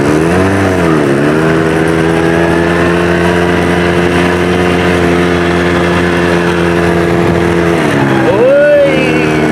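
A motorcycle rides across fine red sand at Jubah in Saudi Arabia, its engine droning steadily and close with a rising rev near the end, while a voice speaks over it.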